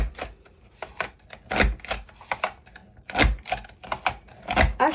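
A paper trimmer slices cardstock for scrapbook borders, a series of close, sharp clicking and scraping strokes in an uneven rhythm, some louder than others, with no talk.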